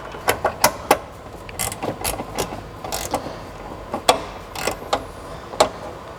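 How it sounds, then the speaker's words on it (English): A 5 mm Allen key or socket tightens a socket head cap screw into a countersunk hole on a brake master cylinder brace for an FRS/BRZ/GT86/GR86, giving a string of close, sharp ratcheting clicks and metal taps with no talking. "Tighten up your Allen or your socket head cap screw."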